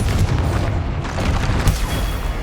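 A Confringo fire spell exploding in Hogwarts Legacy, heard as loud, rumbling booms that roll into one another with no break and no talk.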